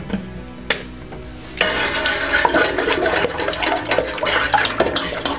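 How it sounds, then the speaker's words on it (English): A hand swirls a tablespoon of shampoo into a basin of water for washing a hairpiece. After a quiet start with a couple of small splashes, continuous churning and sloshing of water follow. "And just add it to the water and swirl it in."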